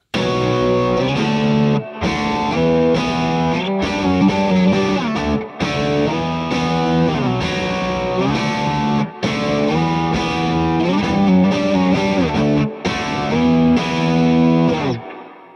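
A heavily distorted electric guitar plays a chugging riff, loud and continuous, with brief pauses between phrases and no voices.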